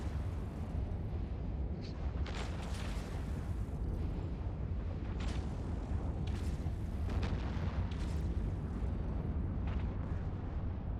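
Missile launchers firing and impacting in the space game Eve Online, heard as repeated booming bursts and muffled explosions over a constant low rumble.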